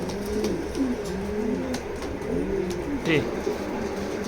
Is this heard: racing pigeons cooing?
yes